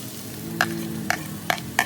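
Onions sauté in a pan for bottle gourd dosa, a soft sizzle under a few sharp scrapes and clinks of a spatula against the pan in quick succession.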